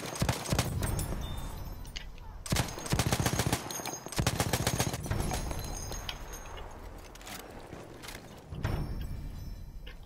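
Bursts of automatic gunfire in a Battlefield 1 match, rapid clattering volleys with short pauses between them, loud and close, layered over battlefield noise.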